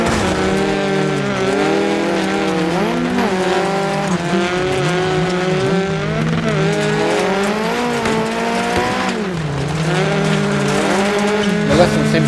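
A Peugeot 208 T16 R5 rally car is driven flat out in the video game Dirt Rally 2.0, its engine droning loud and steady with rising and falling revs through gear changes and faint tire noise.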